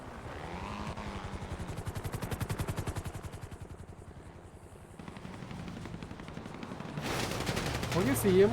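Rapid bursts of gunfire crackle through a video game gang war, a fast rhythmic volley dominating the first seconds, then quieter shots and a loud burst at the end, with some voice underneath.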